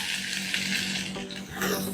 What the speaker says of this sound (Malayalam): അതിലേക്ക് നമ്മളൊരു 3 വലിയ ഉള്ളി സവോള 3 എണ്ണം സ്ലൈസ് ആയിട്ട് എരിഞ്ഞിട്ടുള്ളത് ഇടുക